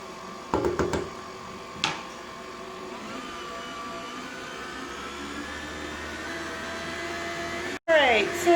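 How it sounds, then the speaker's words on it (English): An electric stand mixer slowly beating cocoa powder into chocolate chip cookie dough, a steady close motor whir throughout with a few knocks early on and a brief dropout near the end. "I just want to start the mixer again slowly"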